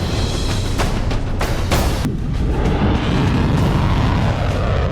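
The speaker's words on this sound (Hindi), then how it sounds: "इजराइल के आसमान में रात भर बारूदी धमाके होते रहे।" Booming blasts in the night sky over Israel during an Iranian missile attack, a sustained low rumble with several sharp bursts in the first two seconds, loud and continuous, with no talk.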